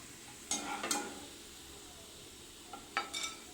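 Ginger frying in a pan is stirred in two short bursts of scraping and clinking, with a faint sizzle in the quiet gaps between.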